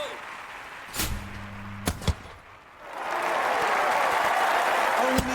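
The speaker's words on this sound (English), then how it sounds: "Listen to the crowd's reaction." Crowd in the London 2012 Olympic video game roars up from about three seconds onward, a broad sustained cheer following a few sharp impact thuds and short tones earlier in the clip.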